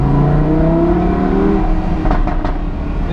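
Lamborghini Huracan engine driving through Monaco, a steady close-up drone with a gradually rising pitch as it pulls, and a few short sharper bursts near the end, with no talking.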